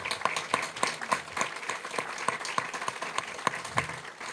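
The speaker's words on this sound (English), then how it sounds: "I think I want to just sort of give a round of applause again to Senator Welch" An audience at a housing grand opening celebration claps steadily for a senator, with crowd applause at moderate distance and sharp individual claps standing out throughout.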